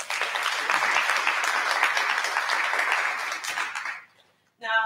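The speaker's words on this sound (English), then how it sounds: "Let's give them a round of applause." Audience applause at a ceremony honouring partner establishments, a dense steady clapping for about four seconds that then stops abruptly, followed by a voice beginning to speak.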